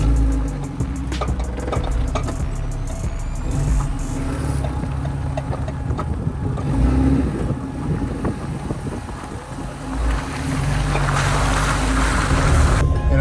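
A Suzuki Samurai on new wheels and wheel spacers drives along on a test drive, its engine and road rumble steady and loud under heavy wind buffeting, with no voices.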